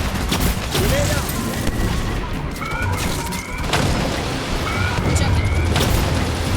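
Dense gunfire and explosive booms in the video game Aliens: Fireteam Elite 2, a loud continuous barrage of shots and blasts with game voices shouting over the battle.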